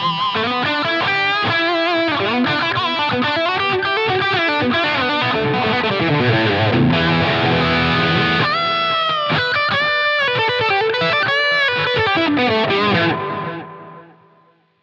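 Electric guitar played through a Line 6 HX Stomp with distortion and a delay block, sustained chords and melodic lines trailing off in repeating echoes, loud and continuous before fading at the end.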